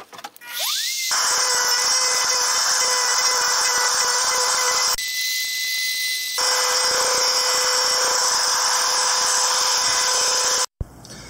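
A power buffing tool whines steadily while a handmade wooden tobacco pipe is polished, the tone dropping away briefly midway and then resuming before cutting off at the end.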